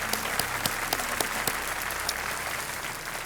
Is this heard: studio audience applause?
yes